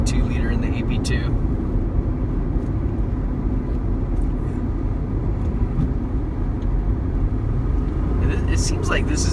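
A 1997 Honda Acura NSX 6-speed (US-market) out driving, heard from inside the cabin: a steady, loud engine drone and road rumble that never lets up, while people talk over it.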